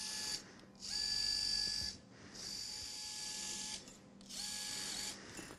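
A surgical power wire driver runs in bursts as it passes an olive wire through the foot bones during a Charcot foot reconstruction, giving three sustained whining spins separated by short pauses, steady and fairly close with no talk.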